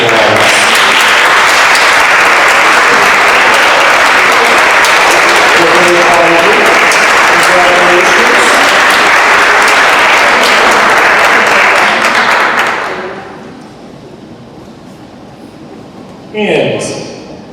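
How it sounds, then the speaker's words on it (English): A school assembly audience of a literacy council's student and tutor appreciation event gives loud, sustained applause for standing students, a dense wash of clapping for about thirteen seconds before it fades out abruptly, followed by a short brief noise. "Can I have all of the students who are here today stand for a round of applause?"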